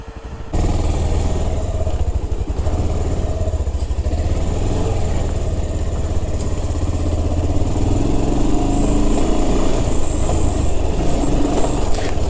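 Motorcycle engine droning loud and steady as it churns through mud on an offroad hill track in Kodaikanal, a continuous rumble with a voice faintly under it.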